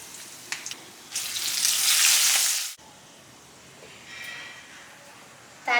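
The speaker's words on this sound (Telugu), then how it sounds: "నూనె వేడెక్కిన తర్వాత తాలింపు గింజలు వేసుకుందాం" Mustard tempering seeds, turmeric, four dried red chillies and asafoetida hit hot oil for a cucumber and groundnut chutney, bursting into a loud, bright sizzle that peaks and then cuts off, followed by quieter frying.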